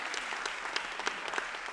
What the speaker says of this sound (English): let's clap it up for them because they really deserve it